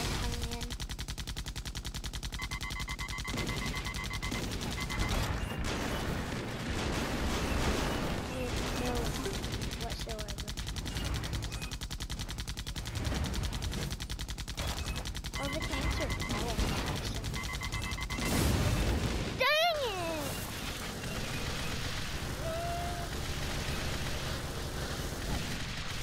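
Missile launcher fire and gunfire in the AirMech Arena video game, a continuous dense barrage of shots and booms with whistling projectile tones, heard under players' chatter throughout.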